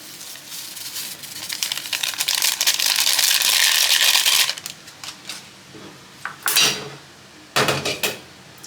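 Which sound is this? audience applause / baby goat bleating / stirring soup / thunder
stirring soup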